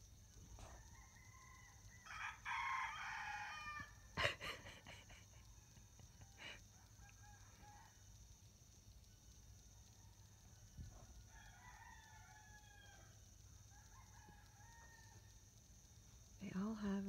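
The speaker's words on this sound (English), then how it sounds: "There's a rooster at the neighbor's house that's not got as nice a voice." Rooster at a neighbouring house in a family compound in Ghana, crowing faintly from a distance in a couple of drawn-out calls over quiet background murmur.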